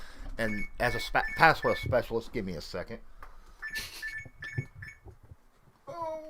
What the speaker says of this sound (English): that's my alarm that says I need to go live